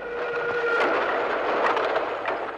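A train running on rails gives a steady loud rumble and rolling clatter, with a faint whistle-like tone in the first second; no voices.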